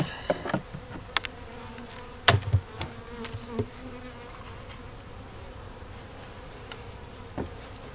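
Honey bees buzz in an opened hive, a steady close drone broken by a few sharp knocks and clicks of the hive lid and frames.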